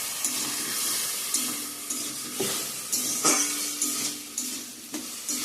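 Potatoes and radish fry with coriander and chili powder in a pan. A soft, even sizzle runs under repeated stirring scrapes and taps at a steady rhythm, with no talk.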